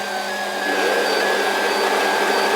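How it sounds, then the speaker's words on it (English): Steady, loud mechanical blower roar with a high whine on top from a Radio Shack Air Pinball table, running continuously and close by. "Alright, let's give this Air Pinball a try. First, we turn it on."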